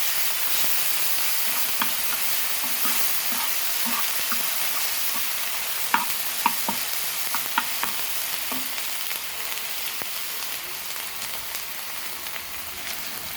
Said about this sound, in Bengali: এবার দিয়ে দেবো আদা রসুন পেস্ট, দিয়ে একটু নাড়াচাড়া করে গন্ধটা ছড়িয়ে নেব।